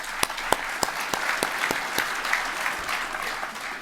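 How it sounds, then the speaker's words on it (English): Audience applause at a welcome session of the GEER 2019 ecosystem conference, a steady mid-level wash of clapping with several sharper individual claps standing out, sustained evenly throughout. "Please join me in giving all of these folks a big round of applause"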